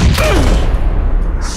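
A grenade blast in the battle game PUBG lands close by as one broad, loud, low boom with a rumbling tail that lingers for over a second.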